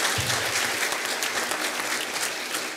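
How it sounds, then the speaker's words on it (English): A conference audience applauds panelists at a regional sustainable development forum, a loud, dense burst of clapping that holds steady for the whole stretch. "please join me in thanking them through a round of applause"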